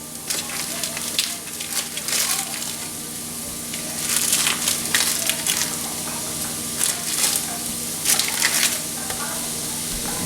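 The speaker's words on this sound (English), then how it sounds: "We'll just take chunks of it and put it on in the stove top to cook." Sausage chunks sizzle in a pan on a stovetop, a steady crackling hiss with brighter spitting bursts, rising in intensity midway, with no talking over it.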